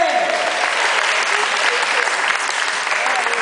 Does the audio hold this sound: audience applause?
yes